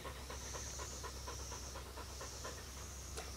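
Dogs resting outdoors by a picnic table pant in a quick, steady rhythm, soft and fairly quiet against faint background hiss.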